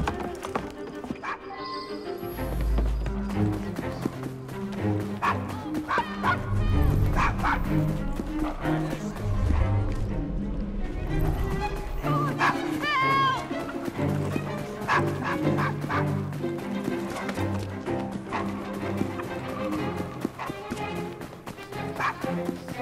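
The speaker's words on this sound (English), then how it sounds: "Nice doggy." A dog barks several times in the video game Assassin's Creed Syndicate, over a busy street mix of clip-clopping horse hooves and background music.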